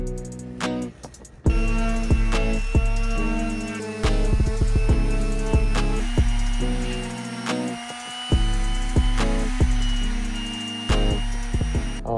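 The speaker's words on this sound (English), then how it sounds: "Back to more sanding." Rough, repeated scraping and grinding of an electric sander on plywood edges, steady and close, with sharp knocks and clatters throughout and no talking.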